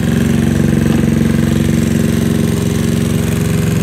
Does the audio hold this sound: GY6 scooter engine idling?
yes